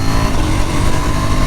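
A KTM Duke 790 sport motorcycle engine roars loudly and steadily at full throttle and high revs, a dense, continuous drone with no pauses.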